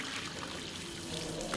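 A tap pours water in Syberia The World Before, giving a steady close rushing stream that carries on without a break.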